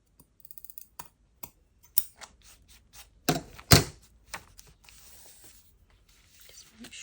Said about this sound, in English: And I'm going to cut that.